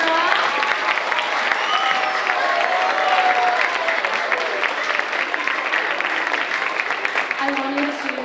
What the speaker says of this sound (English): One more big round of applause for our fabulous orchestra.